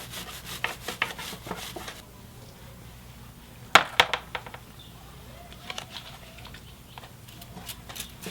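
A brush scrubbing the sides of a motorcycle chain on a CBR 250R, with a burst of quick rubbing strokes at the start and sharper scrapes midway, close and fairly loud against quiet background.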